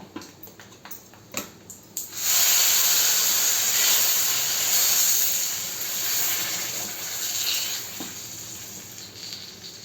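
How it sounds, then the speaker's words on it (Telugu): Mustard seeds splutter in hot oil during tempering for a sweet tamarind stew, a loud, close, continuous sizzling hiss with crackling pops that rises suddenly and holds steady with no talk. "ఆవాలు చిట్పట్లాడుతూ ఉంటే మనం ఇంకా వేసేసుకోవచ్చు"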